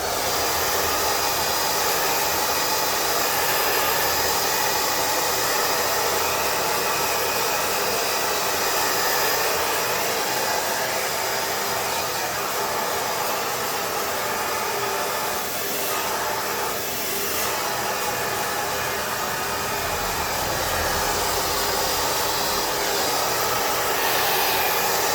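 A hair dryer blows steadily and loudly throughout, close by, while hair is dried and set during a skin fade haircut, the airflow whooshing with only slight changes as it is moved around the head.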